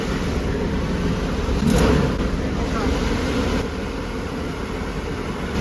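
An RV engine with a bad spark plug wire runs with a loud, steady drone, swelling briefly as if revved before settling back to a constant rumble.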